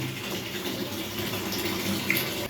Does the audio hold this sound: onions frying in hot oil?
no